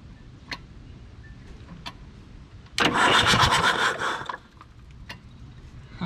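A Komatsu D31S track loader's engine, idle for over ten years, cranks over with its injectors removed: a loud burst of roughly one and a half seconds of starter churning between quiet clicks and ticks.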